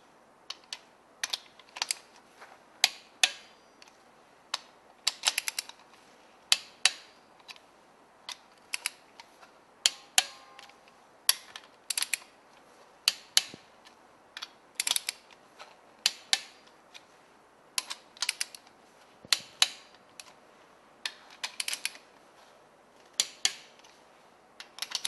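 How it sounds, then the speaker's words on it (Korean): A torque wrench tightens cylinder head bolts on a car engine, giving sharp, close, repeated clicks in uneven bursts over about twenty-five seconds, with no speech. "7토크의 토크를 사용을 해서 토크 게이지를 완벽하게 조여 보겠습니다."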